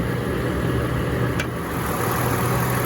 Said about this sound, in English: here you have your 239 horsepower 1GR FE Toyota engine